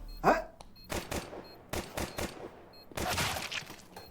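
Bursts of automatic gunfire crackle from a tactical shooter match on the Nuke map, several separate volleys with short gaps, loud and close, with no talk over them.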